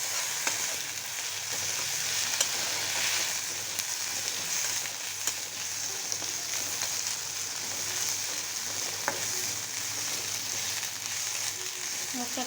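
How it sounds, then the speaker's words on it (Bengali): A spice paste of ginger, garlic, turmeric and chili powder sizzles steadily in a pan, with occasional clinks and scrapes of stirring, close and continuous. "এখন মশলাটা আমি ভালো করে ভেজে নিচ্ছি।"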